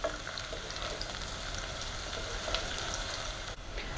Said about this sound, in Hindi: अब हम ये अदरक डाल देंगे, इसे प्याज के साथ थोड़ा फ्राई करेंगे।